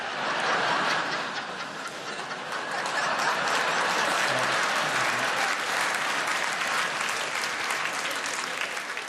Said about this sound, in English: Good job you clapped.